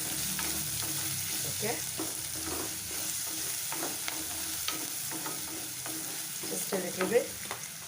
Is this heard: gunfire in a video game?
no